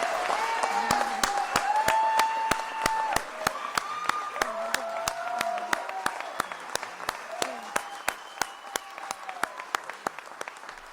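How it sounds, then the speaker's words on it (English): A crowd applauds steadily for several seconds while a voice keeps talking over the clapping. "Give him a round of applause."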